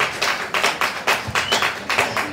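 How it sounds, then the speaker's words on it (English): An audience at a school graduation ceremony claps in bursts of rhythmic applause, steady and fairly close, with a faint voice underneath. "give them a big round of applause as they make their way to the stage"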